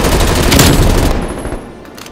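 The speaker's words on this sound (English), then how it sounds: "Someone's shooting," Rapid automatic gunfire in Call of Duty: Black Ops Cold War, a dense loud burst of shots that thins out toward the end, with no talk over it.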